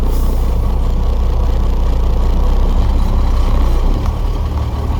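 A truck creeps forward at walking pace during a static brake check, its engine rumbling loud and steady close by, with a brief easing near the end as it comes to a stop; no talking.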